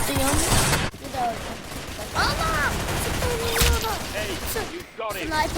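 Rapid gunfire bursts and shots from the Roblox game Arsenal crackle through dense, busy game audio, with a pitched voice-like chatter over the action and brief pauses between volleys.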